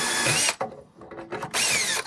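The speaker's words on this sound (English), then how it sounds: "First I got to drill out this rivet." Power drill boring out a rivet in an aluminum trailer: two loud, sustained bursts of high whining drilling separated by a brief pause, close to the listener.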